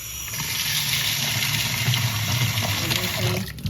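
Water pours steadily over dal and rice in a container to soak them, a close, continuous gushing splash that tapers off near the end.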